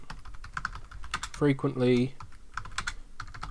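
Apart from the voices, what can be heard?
computer keyboard typing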